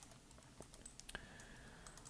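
Keys pressed on a computer keyboard while working in 3D modelling software, a few faint scattered clicks at close range with quiet gaps between them, no talking.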